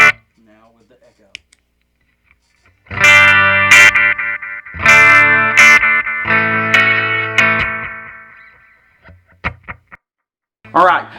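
Clean electric guitar played through a Donner Yellow Fall delay pedal: a few strummed chords and single notes ring out loud and close, each trailing off into repeating echoes before short silent gaps.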